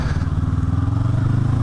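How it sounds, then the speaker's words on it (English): Honda CB500X 2022 motorcycle engine revving up under acceleration, a loud, steady close-up drone with rhythmic pulsing throughout, no voices. "and then I just push this beautiful engine a little bit"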